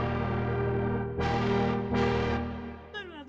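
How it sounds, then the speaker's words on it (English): A Novation Summit synthesizer tone with oscillator drift set wide, a sustained detuned drone that swells in two brighter, wobbling pulses before a short warbling, pitch-sliding tail, no voices. "mimicking old school oscillator drift that you would either find in just like synthesizers that needed a tune-up"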